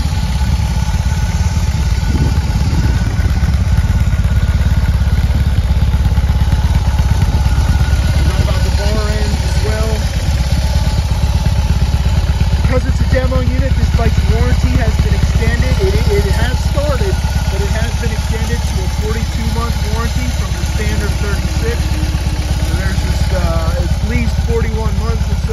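2021 BMW R 18 Roland Sands motorcycle engine idling, a constant low rumble throughout while someone speaks over it.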